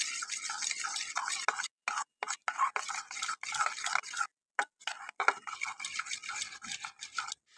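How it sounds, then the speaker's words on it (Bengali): Spice powders, including Kashmiri chilli powder, black pepper and a pinch of salt, stirred together with a spoon for a Bengali-style bhindi curry gravy, giving soft scraping and clinking strokes in uneven bursts with brief pauses, close and fairly quiet. "এবার ভালো করে মিশিয়ে নেব।"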